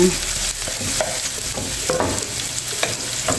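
Ginger and garlic sauté together in a hot pan for a spicy chicken dish in coconut milk, giving a steady close sizzle with scattered stirring scrapes and no voices.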